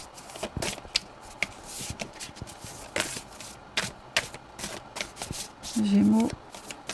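Tarot cards being shuffled by hand, a run of quick crisp riffling clicks and soft slaps repeating through the stretch, close and fairly quiet, with a brief voiced hum near the end.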